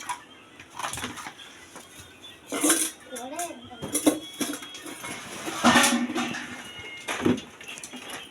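Aluminium scrap metal is tossed into a pile at a scrap yard, giving irregular clattering metallic clanks and rattles, near and fairly loud, with voices talking in the background.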